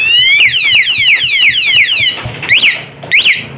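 A Bohante alarm module speaker fitted to a Honda CB150R motorcycle wails loudly and close, sweeping up and down in repeated siren cycles, then breaking into shorter rising chirps.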